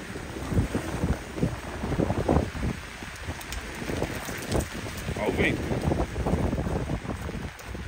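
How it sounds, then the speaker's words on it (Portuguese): Strong beach wind buffets the microphone with constant rumbling gusts, loud and close, while people talk faintly beneath the roar. "Olha esse vento."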